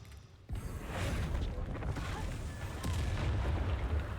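Bombarda spell blasts in the Hogwarts Legacy video game erupt as a sudden booming impact followed by rumbling, crackling explosions with a deep low roar, loud and close, while a player calls out spell names.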